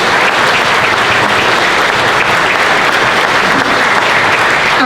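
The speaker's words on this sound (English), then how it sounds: "Let's give Roger Maxey a round of applause." A dinner crowd claps loudly and steadily for Roger Maxey, dense unbroken applause filling the room for several seconds without letting up.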